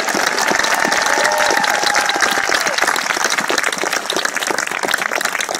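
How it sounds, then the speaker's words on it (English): A crowd at a US Air Force basic military training graduation applauds the commanders and command chiefs, loud, sustained clapping filling the space with a faint murmur underneath. "Would you give my commanders and command chiefs a round of applause?"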